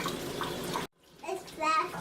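A makeup brush rinsed under a running tap, held so the metal ferrule stays dry: a steady close splash of water for nearly a second, then a brief quiet, then voices and softer watery sounds.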